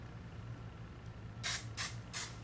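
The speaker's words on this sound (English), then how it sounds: "I've done that layer and I'm just going to spray again." Three short hissing bursts of hairspray puff one after another onto a layer of vintage pin curls, close and fairly soft over a low room hum.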